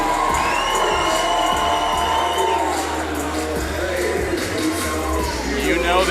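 A dense wrestling crowd at an indie show in Vancouver, Canada cheers and shouts continuously at loud volume, with whoops rising through the roar and commentary audible over it.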